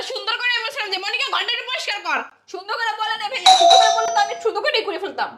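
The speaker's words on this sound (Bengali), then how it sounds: "কলিং বেল বাজতেছে দেখ কে এসে গেটে" A two-tone electronic doorbell chimes once at a home gate, ringing out partway through over loud, continuous talking by women in a heated household argument.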